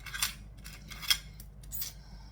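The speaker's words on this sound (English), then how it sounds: "we need to cut a piece of zipper tape that is as wide as the zipper pockets" Scissors snip through zipper tape in three or four quick, crisp cuts with short pauses between them, faint and close in a quiet room.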